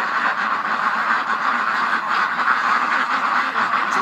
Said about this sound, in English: So that's the morning duck rush.